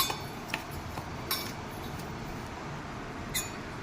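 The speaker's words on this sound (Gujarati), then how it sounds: "હવે આ બધાને સારી રીતે મિક્સ કરી દઈશું" A spoon mixes bhindi masala with dry spices in a metal pan, making a few sharp clinks and scrapes over a low steady sizzle, close by with no talking.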